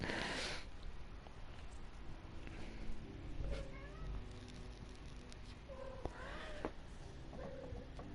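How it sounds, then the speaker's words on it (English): A small kitten cries and meows indoors, several short plaintive calls spaced across the quiet background, faint and close, with a brief rustle at the start. "I apologise on the behalf of a crying little kitty you can hear."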